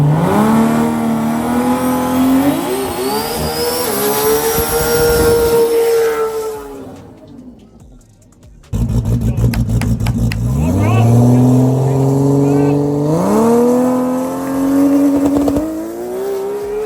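Race-built Nissan Skyline sedan's 3.2 litre six-cylinder engine with billet block, stroker kit, ported head and Motec management, revving hard in rising and falling sweeps, dropping briefly before climbing again, loud and close at a GTR festival event.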